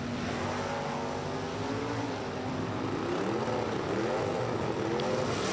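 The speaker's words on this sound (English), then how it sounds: "Big block Camaro." A big block Chevrolet Camaro in Super E automatic class drag races at Lucas Oil Raceway, heard as a loud, continuous engine roar with shifting, rising and falling pitch over constant noise.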